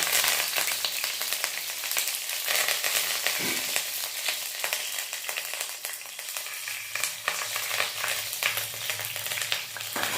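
Continuous hissing and popping of fenugreek seeds, green chillies and curry leaves frying in hot oil, close up and steady, with occasional light stirring sounds and no talking.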